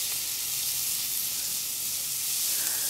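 Onions sizzling in olive oil on a hot grill plate, a loud, steady, close hiss that carries evenly throughout with no voices.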